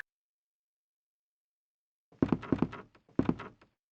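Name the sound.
door opening in the video game Resident Evil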